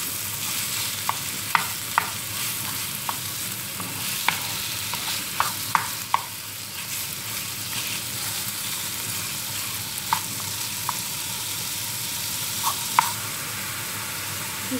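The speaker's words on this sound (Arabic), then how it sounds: "البصله بدا كيتشحر، دابا غادي نضيف له الكفته" Onion frying in a pan with kefta minced meat being added, a loud steady sizzle broken by repeated sharp utensil clicks and taps against the pan.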